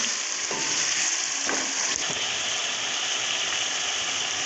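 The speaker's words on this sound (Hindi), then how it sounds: "अब हम इसमें आलू को शामिल करके थोड़ा सा भून लेंगे।" Steady, loud sizzling of potatoes frying with chicken in a pan, with a few brief scraping stirs near the start and no talking.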